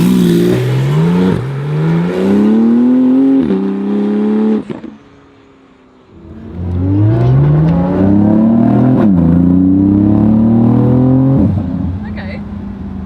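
A Porsche GT2 RS with its exhaust opened revs hard through rising engine sweeps, each climbing pitch breaking at a shift, loud and close with a brief lull in the middle.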